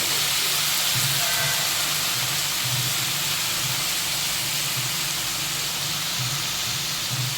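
Washed mushrooms sizzle in melted butter in a pan for cream of mushroom soup, a loud, steady hiss with faint bubbling that runs unbroken throughout.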